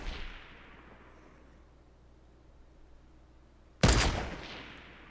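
A single sharp gunshot from the Fortnite video game sounds near the end, loud and sudden, then decays; before it there is only a faint fading tail and quiet background.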